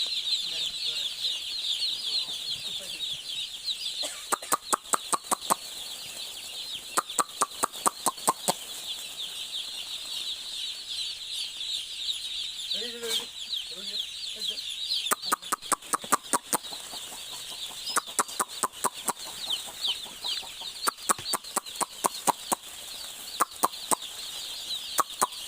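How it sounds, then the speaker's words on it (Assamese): A poultry shed holds 1,680 newly arrived broiler chicks, their dense, continuous high cheeping filling the space while bursts of rapid clicking and tapping recur throughout. "ইয়াতে আজি আহিলে 1680টা মুৰ্গী আহিলে।"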